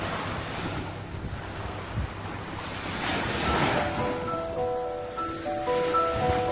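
Ocean waves wash in around a fishing village, with a broad surf roar swelling and receding under gusty wind buffeting the microphone, with faint tonal hum near the end like a distant boat engine.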